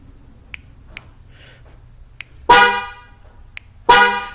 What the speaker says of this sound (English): Now we're getting a honk from the vehicle on the second and third press.